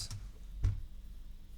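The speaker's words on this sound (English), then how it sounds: "I'm using a separate keyboard here." Sparse keystrokes on a separate computer keyboard, three or four soft, close clicks spaced unevenly over a quiet background.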